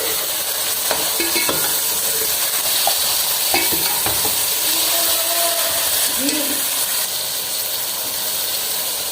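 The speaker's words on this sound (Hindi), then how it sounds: "अब इसमें हम जो है ना गोभी जो है कटी ये डालेंगे।" Chopped cabbage sizzling and frying in a pan, with stirring and scraping sounds from a spoon against the metal, close and continuous.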